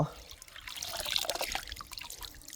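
Cold water from the fridge pours in a soft, steady trickle into a container while preserving neem, a faint close splashing stream lasting a couple of seconds with no talk.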